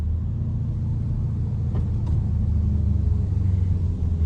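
Low, loud engine rumble of a supercharged Dodge Challenger Hellcat driving through hurricane weather, a steady drone heard from inside with no talk.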